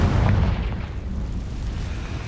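A Confringo spell bursts in a short, deep boom with a rumbling tail in the video game Hogwarts Legacy, heard alone without speech.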